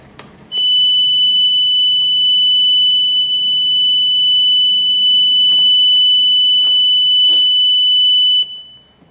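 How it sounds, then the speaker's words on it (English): A steady piercing audio tone from the signal generator of a Tesca 40516 amplitude modulation trainer switches on abruptly and holds loud and constant for about eight seconds before cutting off, with faint clicks beneath. "This is audio frequency signal generator."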